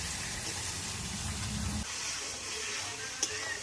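Chicken frying and being stirred in a pan with onion and tomato, a steady close sizzle with denser low stirring texture in the first half, then a thinner hiss with a single brief clink near the end.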